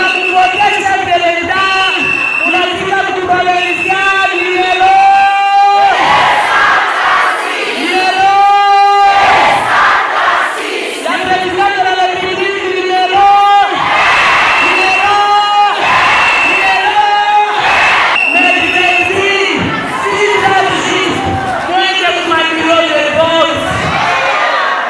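A huge crowd cheers and chants a candidate's arrival in a hall in Lubumbashi, loud, dense and continuous, with rhythmic shouted chants rising and falling and voices babbling throughout.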